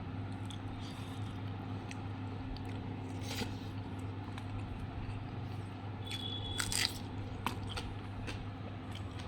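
Someone eats eggplant cooked with small river shrimp and ridge gourd, with soft, close biting and chewing sounds and a few crunchy clicks over a low, steady hum.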